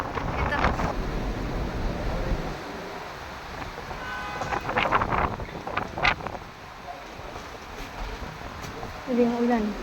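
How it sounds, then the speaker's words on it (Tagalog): Strong typhoon wind and heavy rain during a Signal No. 9 storm in Hong Kong, roaring as steady broadband noise with gusty buffeting on the microphone, while people talk over it now and then. "Ang lakas ng ulan. Ang hangin pa."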